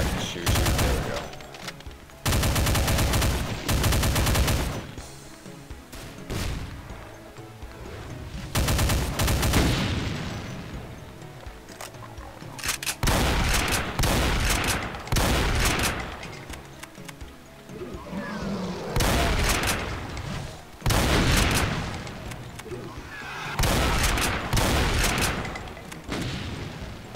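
Rapid gunfire and booming shots from shooting enemies in Doom 2, Jenesis level 20 played with Complex Doom, come in dense repeated bursts with brief gaps, loud and close throughout.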